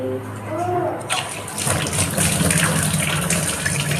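Tap water gushes steadily onto raw chicken being washed, a loud continuous splashing rush that starts after a brief quieter moment and runs to the end, with a voice faintly present early on.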